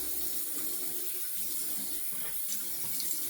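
Running tap water rinses a Zazor Shavette razor, a steady close splash and hiss that fills the whole stretch without a break.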